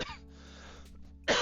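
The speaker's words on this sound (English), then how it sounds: "I had a cough right in my earliest couple of videos. And it seems that it's come back." A single short cough from a man indoors, close and moderately loud, following a stretch of near-quiet room tone.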